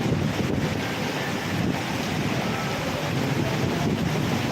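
Heavy rain pouring down outdoors, soaking the ground where there is no roof overhead; a steady, dense hiss that fills the whole stretch without a break.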